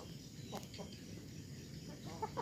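Faint, distant Black Australorp chicken clucks and soft calls scattered over a low background hum.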